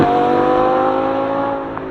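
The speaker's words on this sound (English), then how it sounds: "Bruno's flying in the Huracan, clearing the back and the corners" A Lamborghini Huracan screams around a race track at speed, its engine note holding a steady high wail that fades slightly as the car moves away, with no voices.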